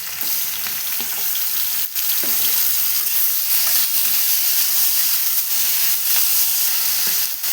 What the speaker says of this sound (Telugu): అలాగే అల్లం కూడా వేసేసుకొని కలిపి తిప్పాలి.